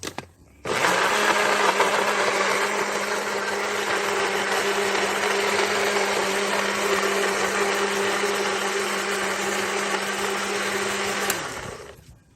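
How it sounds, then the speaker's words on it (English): A blender blending jackfruit with a little water whirs steadily at high speed for about eleven seconds, loud and close, starting abruptly and cutting off at the end. "I'm just adding the jackfruit into the blender"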